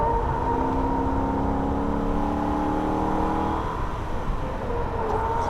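Holden VF Ute V8 engine revving hard around the Nürburgring, rising harmonic tones climbing through a gear change then dropping off as throttle lifts, steady and close.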